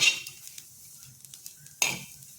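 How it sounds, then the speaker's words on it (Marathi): Bitter gourd being stir-fried in a pan: quiet, sparse spatula scrapes and light clinks, with a brief sharp burst of sizzle near the end. "हे बघा अशी आपण ही थोड्या थोड्या वेळाने अशी परतून घ्यायची कारलं व्यवस्थित भाजलं जातं"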